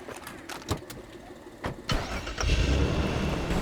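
A car engine starts in the video game Far Cry 2. A few clicks and clunks lead into the crank, which catches and settles into a steady, fairly loud running engine, heard alone without talk.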